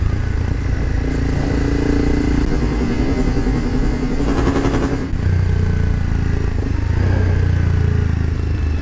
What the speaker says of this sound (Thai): วันนี้ผมก็เลยลงทุนนะครับ อัดเสียงท่อแยกไปเลยนะครับสีส้มอันเนี้ย